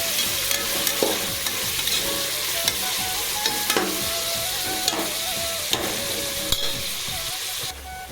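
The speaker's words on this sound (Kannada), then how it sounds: "ಈರುಳ್ಳಿ ಜೊತೆಗೇ ಬಟಾಣಿ ಕಾಳು, ಈರುಳ್ಳಿ ಮತ್ತು ಬಟಾಣಿ ಫ್ರೈ ಆಗಲಿ." Onions and green peas fry in a pan while being stirred, a steady loud sizzle with repeated scraping strokes of a spoon throughout, no voices.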